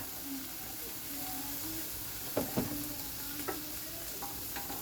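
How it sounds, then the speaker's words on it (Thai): Eggs are stirred in a frying pan over a quiet, constant sizzle, with a few close scraping knocks from the utensil against the pan. "ใส่ไข่แล้วยีเขาให้ทั่วกันนะคะ"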